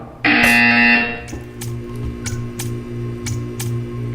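A loud electronic buzzer in the video game Portal 2 blares for about a second, followed by a steady ticking over a low hum.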